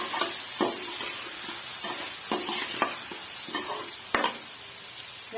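Whole spices, namely cinnamon stick, black pepper and cloves, sizzle in hot oil in a pan for vegetable fried rice while a spoon stirs them, making soft scraping clicks over a constant frying hiss. The sound is close, with no talk.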